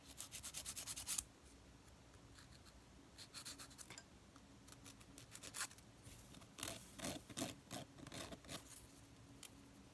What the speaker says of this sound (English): I'm going to take my zebra file and I'm going to go ahead and file the nails